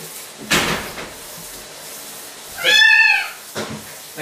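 A video-game cat being forced into a shower stall lets out a single loud, drawn-out meow, preceded by a short thump and followed by a faint scuffle, with no talking.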